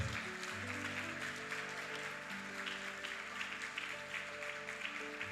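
Church congregation applauding during a worship service, steady clapping heard over sustained organ or keyboard tones.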